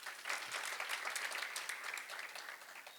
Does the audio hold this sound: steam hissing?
no